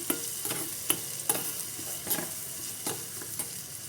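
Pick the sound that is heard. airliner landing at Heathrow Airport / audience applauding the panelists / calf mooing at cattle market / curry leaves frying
curry leaves frying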